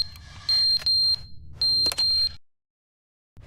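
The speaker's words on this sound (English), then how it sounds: "Oh god, now it's beeping." Beeping alarm in The Stanley Parable video game, two loud bursts of shrill repeated electronic beeps separated by a short pause, then silence.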